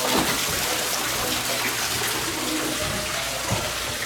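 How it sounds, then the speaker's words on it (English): A waterfall inside a wax museum pours steadily, making a constant splashing rush of water that holds at an even level throughout with no voices. "And they have a waterfall."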